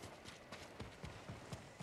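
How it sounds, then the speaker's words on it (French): Horse hooves clip-clop in a steady rhythm in Ghost of Tsushima, set on Iki Island, with rapid regular strikes close by and no talk over them. "Ah c'est mon cheval."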